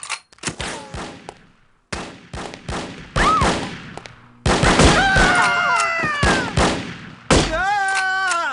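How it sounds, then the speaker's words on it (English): Gunfire in the video game The Operative: No One Lives Forever: loud bursts of rapid shots and single cracks in clusters, with whooshing and ringing game effects between them. "I do not like getting shot at"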